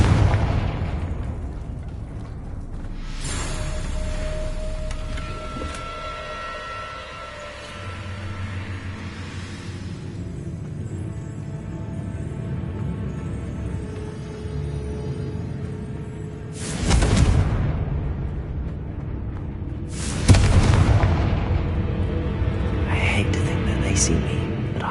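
Confringo blasting spell bursts in the Hogwarts Legacy video game, a few loud broadband blasts standing out over a busy bed of game sounds and talk.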